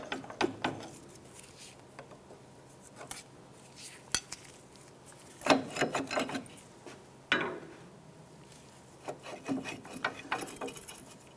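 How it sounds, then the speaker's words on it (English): A pry bar works a brake caliper off a 2001-2007 Ford Escape, making intermittent metallic scrapes, clunks and knocks in short bursts with quiet pauses between them, close and moderately loud. "Using a pry bar, go ahead and just work the brake caliper off."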